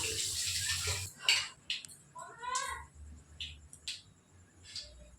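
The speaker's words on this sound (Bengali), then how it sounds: "তো আমার জলটা গরম হয়ে গেছে, চালটা ফেলে দিয়েছি, ডালটা দিয়ে দিচ্ছি এখন" Lentils go into a pot of hot water that already holds rice, producing a few faint, scattered splashes and soft clinks at close range.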